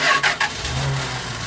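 1977 Winnebago motorhome engine cranking briefly, catching, then settling into a steady mid-pitched idle, close and fairly loud with no talking.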